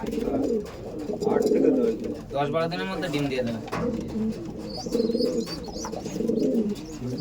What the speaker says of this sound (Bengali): অন্ধ্রা পায়রা অনেক দেখলাম, বাট এরকম অ্যাগ্রেসিভ পায়রা দেখুন, পুরো একদম জোড়া নেওয়ার জন্য পাগল।